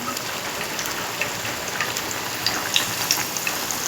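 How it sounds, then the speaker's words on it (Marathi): Garlic fries in two spoonfuls of hot oil, a dense, steady sizzle with scattered small pops and crackles, close and continuous without any voices. "आता आपण फ्राय करायसाठी दोन चम्मच तेल आणि त्यामध्ये लसूण"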